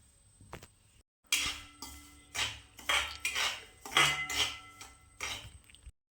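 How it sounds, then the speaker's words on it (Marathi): Semolina roasting in ghee in a pan, a spoon stirring and scraping in repeated bursts of clinking metal strokes, with soft background music underneath. "आता आपण तूप ठेवले तापवत, रवा भाजून घेऊया."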